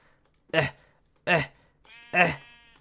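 Three separate sheep bleats from the video game Minecraft, each about a quarter second long and clearly spaced, with a faint tonal hum under the last one and no talking.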